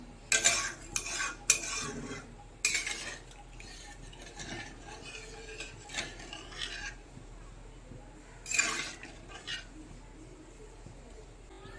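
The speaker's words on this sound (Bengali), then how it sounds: "কড়ার চারিদিক থেকে খুন্তির সাহায্যে মশলাগুলো ভালো করে ঝোলের সঙ্গে মিশিয়ে দেব।" A spatula stirring and scraping masala gravy around a karahi for a fish jhal, several distinct bursts of scraping separated by quieter pauses, fairly close, with no voices.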